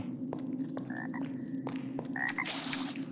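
Frogs croak in the fantasy video game Arx Fatalis: short, squeaky calls that repeat irregularly at close range over a steady low ambient hum, with a brighter burst near the end.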